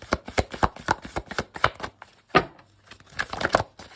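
A deck of cards is riffled and shuffled at close range, a rapid series of crisp flutters and snaps with a short pause before a final burst, no talking over it.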